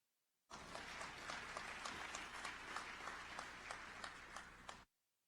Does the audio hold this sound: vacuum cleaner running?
no